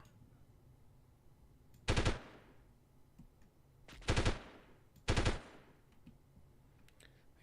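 Gunfire in the 1998 game Delta Force rings out as three sharp bursts, each followed by a short decaying tail, spaced a couple of seconds apart over quiet background hiss, aimed at snipers in pillboxes.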